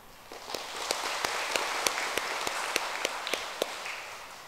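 Church congregation at a Vietnamese Catholic mass for Our Lady of the Rosary applauds, a steady wash of many hands clapping in a reverberant hall with a few sharper claps standing out.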